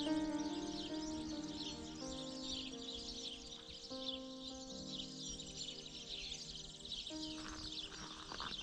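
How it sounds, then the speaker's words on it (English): Birds chirp and tweet steadily at early morning in Vista Hermosa, Spain, a dense chorus of fairly faint, mid-distance calls over a quiet outdoor background with no talk. "Can hear this, the birds."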